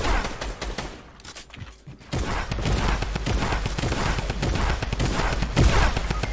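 Fortnite Battle Royale gunfire bursts out in dense, rapid volleys, loud and close, with a short quieter gap before the shooting resumes and continues to the end.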